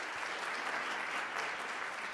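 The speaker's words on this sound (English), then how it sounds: "Can we have a hand of applause for Tamara?" An audience applauds a woman named Tamara at a citizenship and immigration law session, a steady even wash of many hands clapping at moderate level throughout, with no voices heard.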